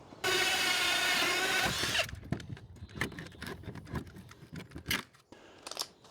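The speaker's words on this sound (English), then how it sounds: "So the soffit bits are done, drilled" A power drill bores into soffit boards during a house renovation, a loud steady whine for about two seconds, then scattered knocks, rattles and handling noises nearby.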